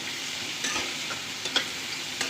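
Chopped onion fries in ghee in a pan, a steady close hiss of sizzling broken by a few soft scrapes and stirs.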